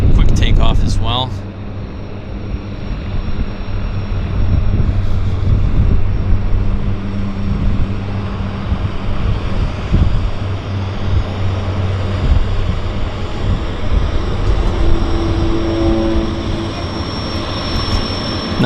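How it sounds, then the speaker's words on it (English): A de Havilland Twin Otter seaplane takes off from Vancouver Harbour and climbs away, a loud sustained turboprop engine roar that holds steady, with people talking over it. "That was a quick takeoff as well."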